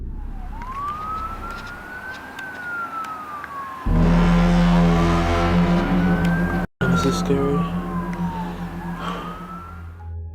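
Police car sirens wailing through a city, rising and falling in long sweeps, with a sudden loud burst of traffic rumble midway and a brief remark spoken over the noise.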